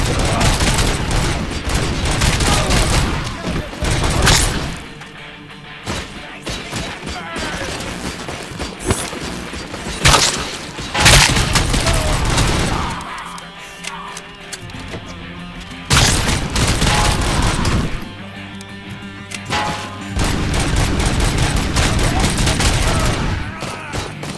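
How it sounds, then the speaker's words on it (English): Gunfire ricocheting off armor in Robocop: Rogue City, with heavy repeated volleys, booms and metallic clangs in loud bursts separated by short quieter gaps, with a little game talk mixed in. "I love that ricochet and the bullet bouncing armor."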